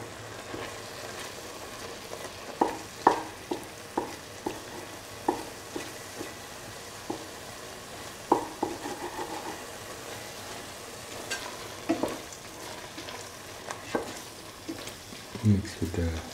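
Eggplant fried rice with scrambled egg being stirred in a pan, with a steady sizzle of frying under repeated scraping and clacking strokes of the utensil at an irregular rhythm throughout.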